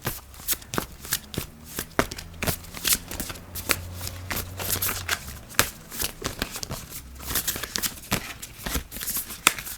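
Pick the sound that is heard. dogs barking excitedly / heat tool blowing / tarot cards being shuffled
tarot cards being shuffled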